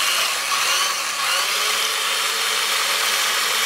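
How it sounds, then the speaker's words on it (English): An old electric whisk beats cake batter until foamy, giving a steady, loud high-pitched motor whine that runs unbroken throughout. "So now you have to whisk this until it is foamy."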